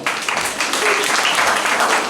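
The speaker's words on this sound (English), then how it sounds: "let's give God a clap hand again" An audience at a school gathering claps hands, a loud, dense stretch of applause lasting about two seconds with voices faintly underneath.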